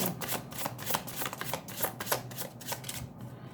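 Tarot cards handled and shuffled close up, a steady run of soft riffling flutters and papery snaps with no voices.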